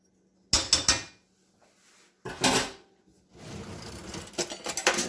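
A kitchen drawer is pulled open and rummaged for a different spoon: sharp rattling bursts of metal utensils clattering, a pause, then more jangling and a drawer sliding, close and fairly loud.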